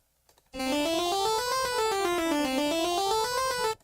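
A bright synthesized tone plays a rapid stepwise scale in 12-tone equal temperament, rising and falling in even steps for about three seconds, loud and steady.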